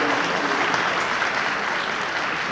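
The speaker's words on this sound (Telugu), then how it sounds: "గట్టిగా ఒకసారి చప్పట్లతో శ్రీనిని అభినందించాలి" An audience applauds for Srinivas at the MATA Seva Days grand finale celebration, a dense and steady burst of clapping from many hands, loud and continuous throughout.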